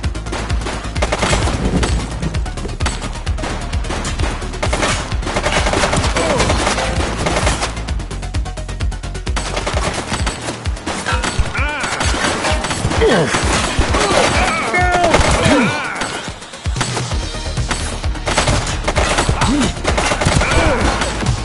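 Dense, continuous gunfire from the police game The Precinct rattles loudly for the whole stretch, with heavy overlapping shots and brief crashes.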